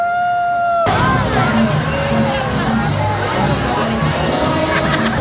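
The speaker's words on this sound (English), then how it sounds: "now it's always just the madhouse getting out of these crowds after the parade" Dense crowd of departing parade-goers at Universal Studios Mardi Gras fills the scene with steady chatter, shouts and hubbub, with a brief tonal sound at the very start before the noise swells.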